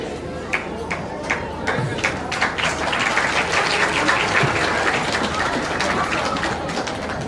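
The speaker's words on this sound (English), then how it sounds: "Another big round of applause for His Holiness Bhakti Rasayana Sagar Swami" A crowd in Brisbane applauds at a Janmashtami festival gathering, sustained clapping that swells and holds steadily, loud and near, with a voice speaking briefly over it.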